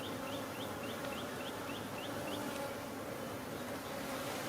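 Honey bees buzz steadily throughout a hive inspection, a dense continuous drone close by with a few brief higher chirps rising over it, and no talking.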